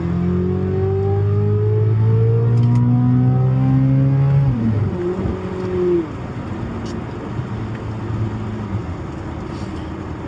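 A Chevrolet C8 Corvette Z06 engine with an aftermarket titanium exhaust revs up with a rising, throaty exhaust note, then drops back to a loud idle, close and dominant throughout.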